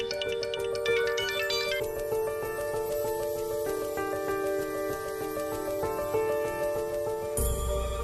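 A melodic phone ringtone plays steadily and fairly loud, repeating its chiming tune without pause until it cuts off abruptly near the end.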